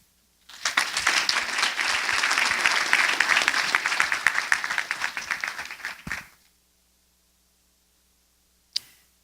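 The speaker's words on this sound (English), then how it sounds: "I think you deserve another round of appreciative applause" Audience applause at a curriculum alignment event, a sustained burst of clapping lasting about six seconds before stopping abruptly, followed by silence and one faint late clap.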